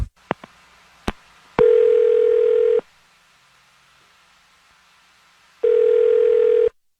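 An outgoing telephone call begins with a few sharp clicks, then two long electronic ringback tones separated by a silent pause, heard clearly over a quiet line.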